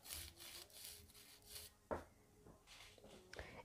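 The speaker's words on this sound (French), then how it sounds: "je vais passer avec ma lime Stalek par en dessous, bien évidemment, pour enlever les démarcations du gel" A coarse nail file rasps back and forth beneath a gel nail to smooth away the gel's edge during a French manicure, giving close, soft scraping strokes in a steady rhythm, with no talking.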